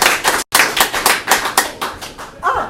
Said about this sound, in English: Let's hear it for Mike.